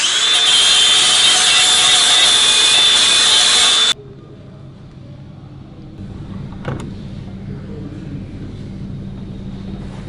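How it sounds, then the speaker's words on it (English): A flap disc grinds metal smooth while fitting a left-hand starter motor conversion on an LS engine. A loud, bright whine runs for about four seconds, then cuts out and leaves a low rumbling tail. "Just going to use a flat disc just to clean it up a bit"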